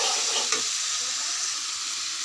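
Tomatoes stir-fry with eggs and potatoes in a hot pan, giving a continuous loud sizzle with one brief scraping stir near the start, no talk.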